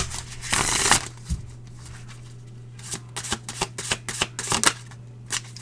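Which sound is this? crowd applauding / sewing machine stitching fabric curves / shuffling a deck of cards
shuffling a deck of cards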